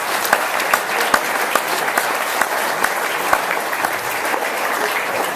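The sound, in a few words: audience applause at an awards ceremony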